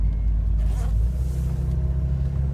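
A Toyota Land Cruiser engine runs with a steady, deep low rumble close by, its pitch shifting slightly as it idles and moves.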